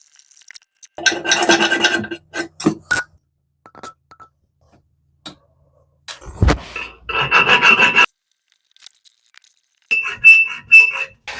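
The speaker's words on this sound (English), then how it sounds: "take a hacksaw, cut this off" A hacksaw cuts through a toilet mounting bolt during a toilet installation, in short bursts of close, harsh rasping strokes separated by pauses, with a brief clunk midway and no talk.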